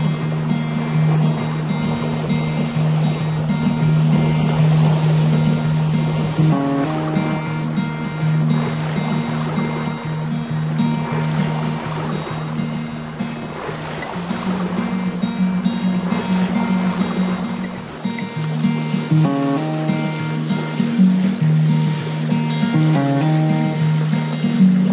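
Boat motoring across open ocean toward Great Keppel Island, a steady low engine drone with a continuous rushing wash of water and wind, loud and close throughout without a break.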